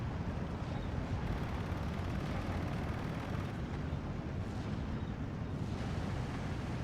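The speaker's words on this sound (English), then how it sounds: "That's a lot of artillery." A heavy artillery barrage in the WWII strategy game Steel Division, in a Großdeutschland versus Pv Gp Fedyunkina match, rolls on as a dense, continuous rumble of overlapping blasts. It stays loud and steady throughout, with no voices.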